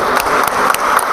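A church congregation claps after a scripture reading at a sermon, with a few distinct hand claps standing out over a steady wash of applause.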